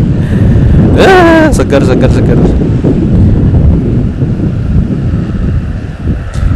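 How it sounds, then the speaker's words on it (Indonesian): Strong wind buffeting a wireless clip-on microphone outdoors, a loud continuous low rumble that runs through the whole stretch, with a brief burst of speech near the start and other noise on top. "Wah, langsung kena angin ya."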